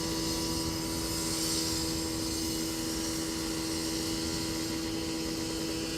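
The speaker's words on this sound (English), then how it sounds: "They're cutting some concrete" Angle grinder cutting concrete blocks on a terrace at an airport, a steady distant whining drone that stays constant without breaks.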